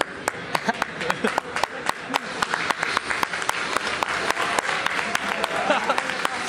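A few people clap in quick, slightly uneven bursts, with sharp close-up slaps under chatter and background voices.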